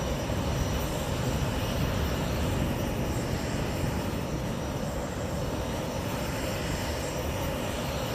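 A Legacy 650 business jet passing in a flight simulator, a steady loud broadband engine roar that holds evenly throughout without voices.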